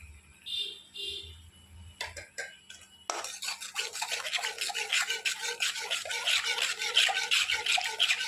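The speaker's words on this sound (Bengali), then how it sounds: "এইভাবে আঁচ কমিয়ে রেখে এটাকে একটু নেড়ে নেব, দই দিয়ে একটু কষিয়ে নেব।" A spoon scrapes and stirs yogurt into spice masala in a pan over low heat, starting with a few scattered taps and settling into steady, rhythmic rasping strokes close up.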